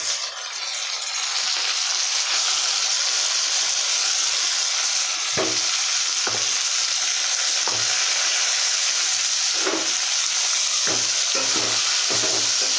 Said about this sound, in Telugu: ఇప్పుడు టమాటా ముక్కలు వేసుకోవాలి ఈ విధంగా పొడుగ్గా తరుక్కొని వేసుకోవాలి